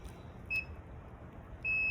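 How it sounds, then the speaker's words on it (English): A multimeter's continuity tester on the horn switch of a 2002 Ford F-250 gives two steady, high electronic beeps, a short one and then a longer one, over low background hiss. "retest the continuity. And if it beeps, then I know the switch is bad and it's not that it's warping."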